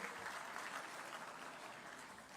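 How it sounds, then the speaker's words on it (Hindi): An audience at a Teachers' Day award ceremony applauds 81 honoured teachers, with dense, continuous clapping held at an even level throughout. "उन सभी शिक्षकों के 81 शिक्षकों के लिए जोरदार तालियां हो जाएं जिन्हें आज सम्मानित किया जा रहा है।"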